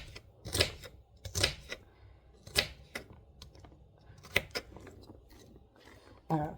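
A knife chops celery into smaller pieces on a cutting board in a home kitchen, giving sharp, uneven thunks spaced a second or so apart, fairly close and moderately loud, with no talking.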